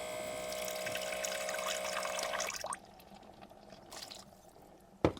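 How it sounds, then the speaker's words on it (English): Water poured into an Instant Pot of gluten-free beef stew, a steady splashing pour for about two and a half seconds that stops, followed by quieter handling and a brief clunk near the end. "I also think it needs a little more water."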